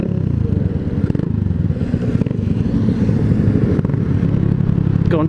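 A large twin-engine motorcycle rumbles close by with a steady, loud engine drone and some clatter, the pitch rising slightly as it passes.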